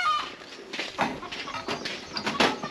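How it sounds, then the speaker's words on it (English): Wild chickens and roosters on Banton Island in Romblon cluck and call in short repeated bursts, moderately close, with bird calls overlapping against quiet outdoor background. "Look, there's a lot of chickens. Wild chickens. And roosters."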